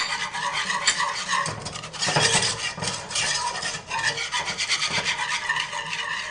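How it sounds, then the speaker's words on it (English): A whisk scrapes and stirs continuously through a vanilla panna cotta mixture cooking in a pot on low heat, a close, rhythmic rasping swish with brief louder strokes and no voices. "You're going to whisk this continuously while it cooks on low heat for 5 to 6 minutes."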